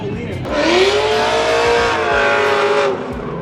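A loud LS V8 engine roars and revs as a car drifts by, with tire squeal and a voice talking underneath.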